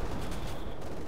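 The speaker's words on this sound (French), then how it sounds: "J'ai su des tirs de mitrailleuse lourde." Heavy machine gun fire rattles in Company of Heroes 2, during a battle at the Poznań citadel: a brief, dense burst of rapid shots, fairly distant and muffled, with no voices.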